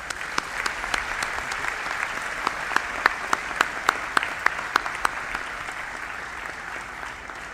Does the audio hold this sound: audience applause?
yes